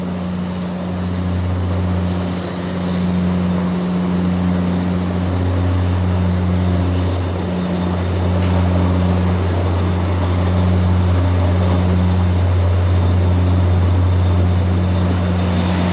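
An F40 diesel locomotive engine idling at a station before departure, a steady low droning hum with sustained tonal rumble, loud and close, with faint background clatter.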